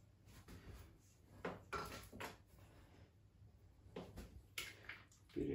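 Potato filling for a homemade chicken pie (kurnik) being stirred in a dish, giving soft, irregular scraping and clattering bursts in a quiet kitchen, with a louder scrape at the end.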